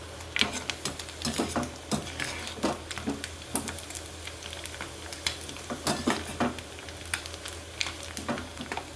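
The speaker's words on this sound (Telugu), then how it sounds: "పైన కొంచెం క్రిస్పీగా బ్రౌన్ కలర్ వచ్చేలా వేగించాలండి" Prawns fry in a pan of oil for a Telugu prawn pickle, crackling and sizzling steadily close up, with frequent sharp pops and occasional utensil clinks over a continuous low hiss.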